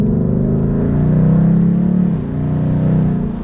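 A Ford F250 with a 6.7 Powerstroke diesel and a large new turbo accelerates hard through quick automatic shifts, its engine note rising and dipping with each change, loud and close from inside the cab.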